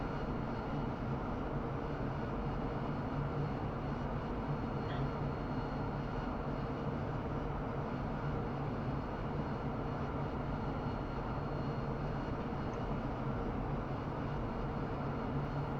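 Continuous loud droning whine of an AV-8B Harrier jet engine heard from inside during a slow fixed-nozzle landing approach, steady throughout with no pauses and no talking.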